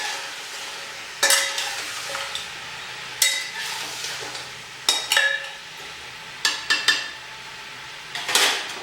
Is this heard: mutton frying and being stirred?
yes